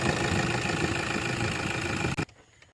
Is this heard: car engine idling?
yes